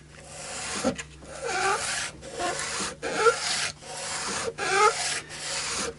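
Sandpaper rubs back and forth on the wooden neck of an AristoCat Strat guitar in steady, rhythmic strokes, a close, raspy scraping with brief pauses between passes.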